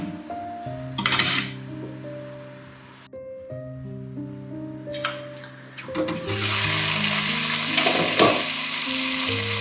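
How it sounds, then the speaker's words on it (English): Tomatoes cooking in a lidded pot for a Mangalorean pepper pork curry are stirred, with gentle clinks and then a loud, continuous sizzle under background music. "Every few minutes, I'm opening the lid and stirring the tomatoes to make sure that they don't stick"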